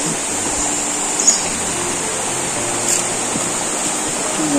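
River water flows steadily near a small bridge in the countryside, a constant broadband rush with no breaks, close and fairly loud.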